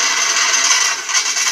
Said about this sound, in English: I'm drilling these both at once so I don't have to keep switching bits quite so often.